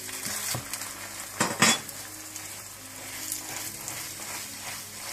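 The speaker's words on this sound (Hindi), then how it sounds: "एक साइड पकने के बाद आप दूसरी तरफ भी मक्खन डाल दें और इसको फिर पलट दें।" Butter-fried aloo paratha sizzling on a hot pan, a steady soft crackle with a couple of sharper clinks and scrapes as it is flipped.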